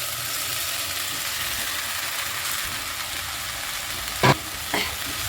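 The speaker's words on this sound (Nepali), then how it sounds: "अब यो चामललाई चाहिँ मजाले भुट्नुपर्छ है त, 1 मिनट जति मिक्स गर्नु होला" Soaked rice and chopped vegetables are stirred and fried in a single pot for a Nepali smoked mutton pulao, giving a steady close sizzle with a couple of sharp scraping clanks near the end.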